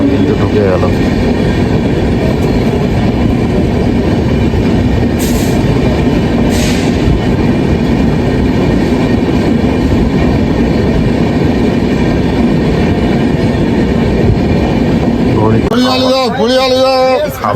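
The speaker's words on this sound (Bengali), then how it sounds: "বন্ধুরা ট্রেন কিন্তু বর্ধমান জংশন কিন্তু ঢুকে গেল" The Darjeeling Mail rolls into Bardhaman Junction with a steady, loud rumble of wheels and carriages that lasts throughout, and a burst of high metallic squealing breaks through near the end.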